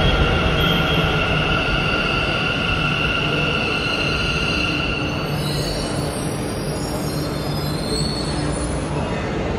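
A Bangalore metro train rides along with a steady, loud rumble and a continuous high wheel squeal from the rails, heard from inside the carriage without talk.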